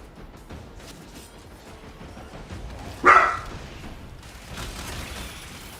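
A small dog barks once, sharp and fairly close, over quiet background sound during a live Warframe gaming stream.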